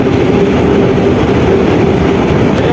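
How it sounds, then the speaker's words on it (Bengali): A loud, close train rumbles past overhead, heavy low roar with a steady mechanical hum throughout and no pause in the noise. "এই দেখো উপর থেকে ট্রেন"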